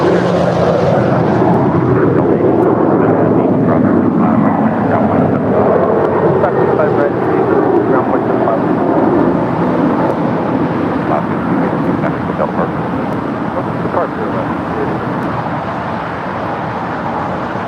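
A jet airliner, an Alaska Airlines Boeing 737-900ER, departs from the south side of LAX with a loud, sustained roar that slowly fades across the whole stretch, under steady broadband noise.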